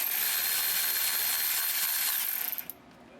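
A hissing, high-pitched power tool spins a bolt off a Sprinter van's automatic transmission oil pan, running steadily up close for about two and a half seconds before winding down with a few rattling clicks.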